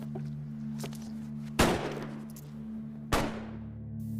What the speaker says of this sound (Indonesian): akhirnya kedua orang itu pun didor oleh Seong.